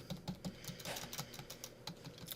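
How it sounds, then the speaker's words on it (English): Quick, light clicks of typing on a computer keyboard, about a dozen keystrokes in an uneven rhythm, close and fairly faint, with no voices. "So if I type in 1010"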